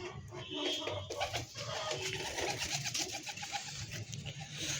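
Caged pigeons coo steadily and close up in a dense, overlapping chorus of low throaty calls that carries on throughout, with faint background noise.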